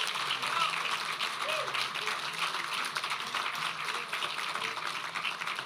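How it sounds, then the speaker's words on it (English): Steady, dense applause from a festival audience honoring Tennessee Jamboree performers at the Louie Bluie Festival, a continuous wash of many hands clapping at even loudness throughout. "How about a big round of applause for all of these Tennessee Jamboree legends?"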